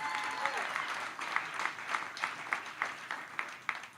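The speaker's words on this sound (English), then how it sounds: "I'll take applause for that" Audience applause at a political rally for a projected Ohio GOP governor nomination win, a steady wash of clapping with rhythmic pulses, as if the crowd claps in unison, continuous throughout.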